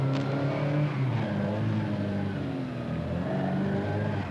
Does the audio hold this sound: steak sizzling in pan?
no